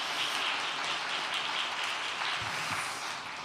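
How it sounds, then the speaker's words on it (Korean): A church congregation applauds to thank a visiting pastor at a Friday service, a continuous, soft, somewhat distant patter of many hands with no talking. "우리 뜨거운 감사의 박수 드리겠습니다"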